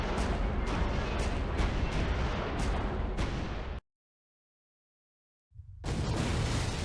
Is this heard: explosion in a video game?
yes